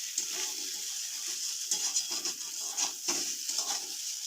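A spice masala with potatoes being stir-fried in a pan, heard as soft, fairly faint scraping strokes from the stirring that come in short repeated bursts over a low sizzle.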